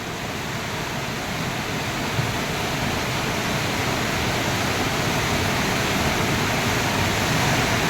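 River water flowing near Kedarnath in a channel carved by a flood, a loud, dense, continuous rush heard up close throughout with no voices.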